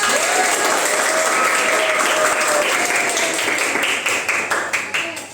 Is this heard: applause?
yes